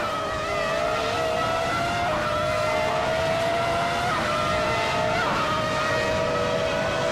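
A pack of race cars roars off the start at Mid-Ohio in a racing game, led by a classic 1995 McLaren MP4/10, their steady engine drone rising and shifting pitch with gear changes, continuous and fairly loud throughout.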